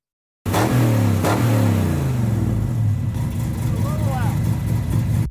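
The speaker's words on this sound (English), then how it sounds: "Dude has two different types of exhaust sounds, two different types of revving the engine." A car engine with a loud aftermarket exhaust revs hard twice, then settles into a deep rumbling idle, with a voice briefly heard over it.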